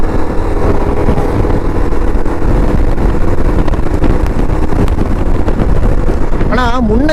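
Engine of a 2025 Yezdi Adventure motorcycle while riding, a steady loud drone buried under heavy wind rush, with a short rising and falling tone near the end.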